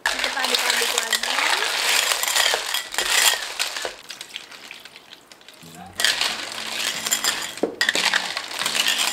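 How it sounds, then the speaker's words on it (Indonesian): Blood cockles tip into a pot of spiced oil for cockle soup, their shells clinking and rattling in loud bursts while a voice talks over parts of it. "sekarang kita masukin kerangnya"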